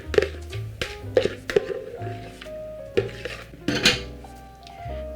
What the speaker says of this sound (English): Okay, so I'll be putting it in my pan now.